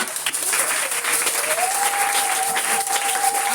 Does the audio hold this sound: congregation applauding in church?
yes